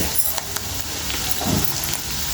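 Cashew chicken fry sizzling steadily in a hot pan, a dense, close crackle with a few soft stirring scrapes and clinks, heard on its own.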